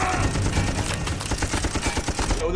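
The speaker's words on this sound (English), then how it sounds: "Joseph reappeared and shot Gordon, killing him." Rapid bursts of gunfire from a tense undersea creature thriller scene, a loud rattling fusillade of repeated shots in quick rhythm under dense score, close and sustained with no talk.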